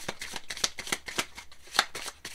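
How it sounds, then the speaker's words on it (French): A deck of Egyptian oracle cards being shuffled by hand, a quick run of crisp papery riffles and slaps in an uneven rhythm, close and clear with no talking. "Je vais prendre deux cartes."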